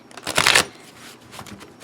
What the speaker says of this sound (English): I don't find trimmed decks to shuffle as well as untrimmed decks.